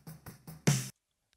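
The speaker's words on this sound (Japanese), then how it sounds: "でこれが生のスネアの音ですね。" Raw close-miked snare drum from a studio recording session: three short sharp hits followed by a longer, brighter crack, then silence.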